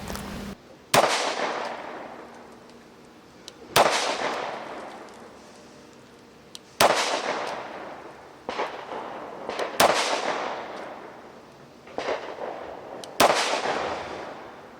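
Shots from a Kimber 2K11 .45 ACP 1911 double-stack handgun, six loud, sharp single reports spaced a few seconds apart, each ringing out with a lingering echo, no talking.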